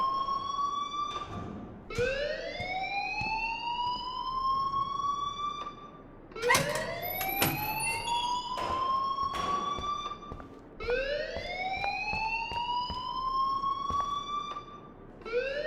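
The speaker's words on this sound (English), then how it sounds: "please turn off that alarm since that's your job" A fire alarm in the video game Life is Strange wails in repeated rising sweeps, four cycles of siren-like tone with short breaks between them, loud and steady.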